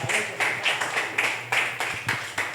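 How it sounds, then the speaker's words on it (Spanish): A church congregation claps in steady rhythmic unison, about eight even beats from a crowd in a reverberant room, with no talking over it. "Cuando dicen amén, aplauda la gloria de Dios"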